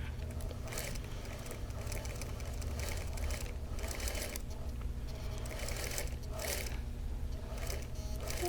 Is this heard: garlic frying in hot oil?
no